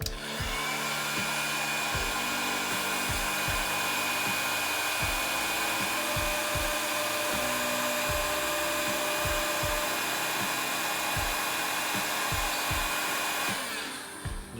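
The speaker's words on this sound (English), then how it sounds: "Use a heat gun." A heat gun blowing hot air to shrink heat-shrink wrap over a crimped wire, a loud continuous whirring blast for about thirteen seconds, close up, with soft clicks and handling knocks underneath before it cuts off.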